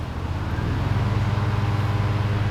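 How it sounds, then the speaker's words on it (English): Tractor engine running close by at a carp fishing pond, a steady low rumbling drone that holds throughout with no talk over it. "there's someone at a tractor behind me."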